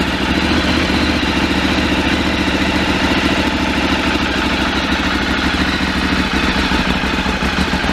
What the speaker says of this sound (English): There you go, that's what a standard 848 Evo sounds like.